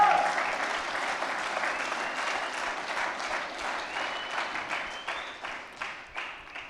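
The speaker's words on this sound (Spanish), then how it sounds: "Démosle un fuerte aplauso a nuestro Dios." A church congregation claps together during a sermon, a broad wash of applause with some voices and cheers mixed in, gradually thinning and fading toward the end.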